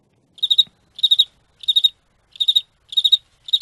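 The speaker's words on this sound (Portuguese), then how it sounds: "Eu acho que ouvi um grilo." A cricket chirps in short, regular trilled bursts, about six evenly spaced, clear and alone against silence.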